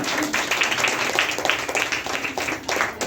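Audience at a women's empowerment summit clapping in a continuous, moderately loud burst of applause that persists evenly for about three seconds.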